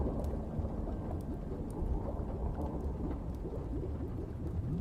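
Steady rain patters over a low, continuous rumble of distant thunder, a dense and even storm ambience with no voices.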